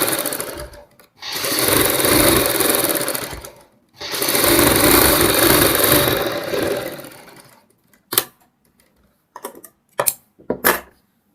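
A sewing machine stitches the inner margin seam of a girls' top in two long, loud, steady runs separated by a short pause, followed by several brief clicks and taps as the work is handled.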